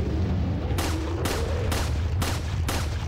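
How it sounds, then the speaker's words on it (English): Gunfire in the video game Resident Evil 4, four sharp shots spaced about half a second apart, loud and close over a steady low background rumble. "and now we can shoot him."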